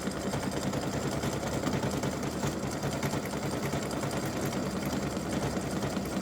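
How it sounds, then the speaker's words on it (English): An embroidery sewing machine satin-stitches the center of a freestanding-lace bow earring in a steady, rapid mechanical chatter of needle strokes, loud and close, with no talk. "it's doing the satin stitching around the center of the bow"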